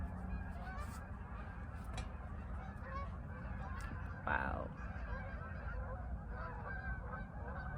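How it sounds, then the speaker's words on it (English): Flock of geese honking repeatedly as they fly overhead outdoors, a chorus of distant overlapping honks with one louder call partway through and a brief spoken exclamation. "There's a flock of geese flying overhead."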